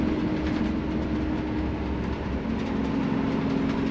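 A freight train rumbles past continuously with a steady, dense roar and faint rhythmic clatter, loud and close, with no voices.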